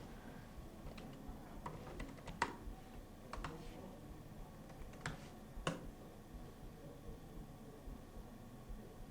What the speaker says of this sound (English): We'll type in some message.